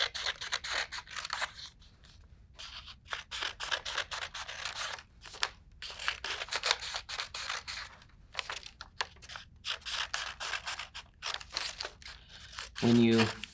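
Scissors snip through paper while a strip mat is cut during a children's coding craft, giving many rapid crisp cuts in close succession with short pauses, close and fairly loud.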